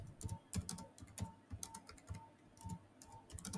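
Fingers type a prompt into ChatGPT on a computer keyboard, a close run of quick, uneven key clicks in short bursts with brief pauses, with no speech over it.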